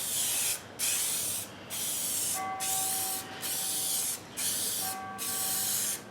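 A spray paint can sprays a cedar board sign in about six short bursts of hissing, close and steady, separated by brief pauses, with no talk.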